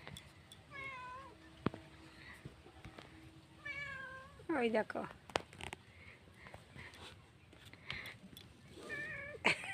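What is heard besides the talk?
cat meowing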